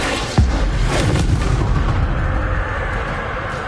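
A fiery Confringo spell blast in the video game Hogwarts Legacy: one loud, heavy boom with a deep low thump, then a rumbling, crackling tail that fades slowly.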